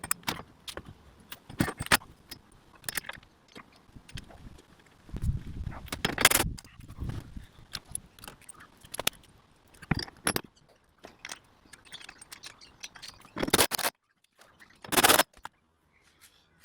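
Metal washers, spring washers and bolts clink and jangle in sharp, scattered bursts while a towbar is fitted to a 2011-2015 Hyundai i30 GD, with quiet handling noises in between and no talking.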